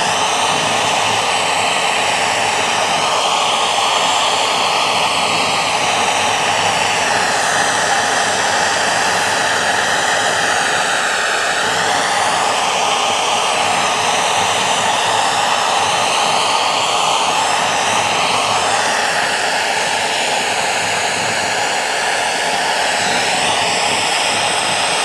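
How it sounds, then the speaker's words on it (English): A torch flame heating bronze wool and 316 stainless steel wool gives a loud, steady, roaring hiss close up that keeps going without a break. "Let's get closer with the torch. Really get it hot."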